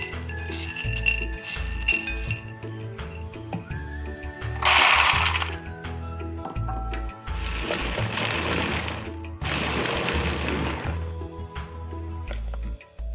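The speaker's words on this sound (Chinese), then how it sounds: "再放入搅拌器中搅碎" Blender grinding roasted, skinned peanuts, coming in as several loud whirring bursts of rattling, crunching noise separated by short pauses, over low background music.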